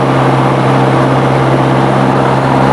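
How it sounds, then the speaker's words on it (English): Small airplane engine running steadily during a carburetor heat check on the ground, a loud, even propeller drone with a constant low hum. "Then we check the carburetor heat."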